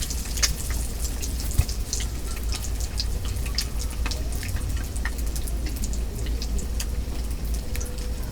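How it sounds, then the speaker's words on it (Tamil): Steady rain falling in a village outdoor cooking spot, a dense continuous patter with scattered sharper drips close by, no voices. "எங்களுக்கு 2 நாளாக தான் மழை பெஞ்சிக்கிட்டு இருக்கு"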